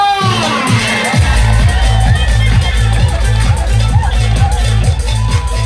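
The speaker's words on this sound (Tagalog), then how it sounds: "parinig naman po ng isang malakas na palakpakan na may kasamang hiyawan!" A crowd at an evening public event in Nangka claps and cheers, its noise spread beneath pounding bass-heavy music that plays throughout.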